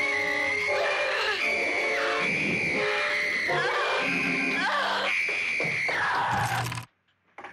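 A girl screams in fright at a ghost in a cartoon, a loud, shrill, sustained cry that wavers up and down in pitch for several seconds before cutting off abruptly into near silence.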